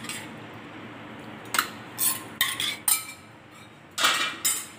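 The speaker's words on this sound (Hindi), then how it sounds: "तो अब मैं इसको डाल दूँगी मिक्सी के जार में इस तरह से।" Cooled chutney ingredients tipped into a steel mixer grinder jar in a home kitchen, giving several short clinks and clatters of metal and spoon against the jar, spaced irregularly at close range.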